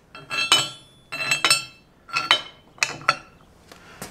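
Countersunk metal bolts are dropped one after another into a lift pump mounting plate on a Duramax diesel, giving four close, bright clinks and rattles separated by short pauses.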